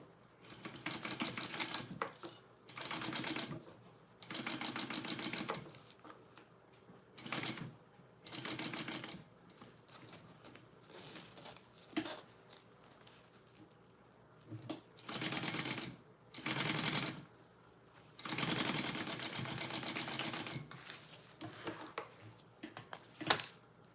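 A home sewing machine basts a fabric piece for a Roadie bag in bursts of fast, rattling stitching, several runs of a few seconds each separated by short pauses, close and steady.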